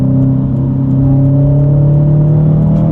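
A Subaru STI engine revs loud and close during a third-gear pull, a strong droning tone that rises slightly and holds steady, with no one talking.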